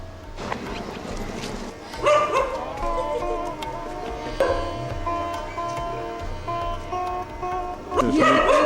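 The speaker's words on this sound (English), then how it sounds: "Look at the dog." A dog barks and yips amid a busy, noisy outdoor scene by the Ganges in India, repeated calls over crowd murmur and voices.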